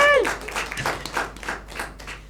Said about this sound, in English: Give yourselves a round of applause on this side.